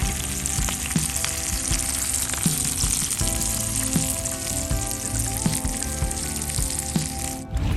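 Butter browning in a pan to beurre noisette for pan-fried walleye (doré), a steady close sizzle and crackle with scattered pops, continuous throughout and ending abruptly.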